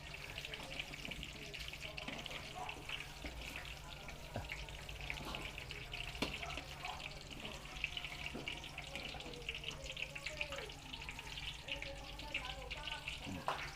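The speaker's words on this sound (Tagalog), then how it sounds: "Ganda ng pagkakaprito, oh." Food frying in a pan during preparations for a traditional Filipino fiesta, a steady close crackling sizzle running throughout, with faint background voices and occasional clinks.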